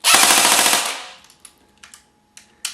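A Classic Army M15A4 airsoft rifle fires a rapid full-auto burst of close, loud, evenly spaced shots for almost a second, followed by a few scattered mechanical clicks and knocks.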